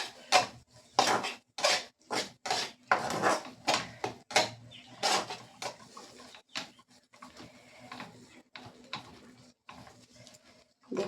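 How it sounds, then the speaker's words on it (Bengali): Fish curry masala being stirred with tomato sauce in a pan, with a run of rhythmic metal scrapes and clacks, close and fairly loud at first, then softer, irregular stirring noises. "টমেটো সসটা দিয়ে কিন্তু আবার একটু নাড়াচাড়া করে নেব।"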